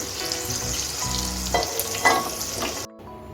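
Chicken kofta balls frying in a pan, a steady close sizzle with occasional stirring clatter, then an abrupt cutoff near the end.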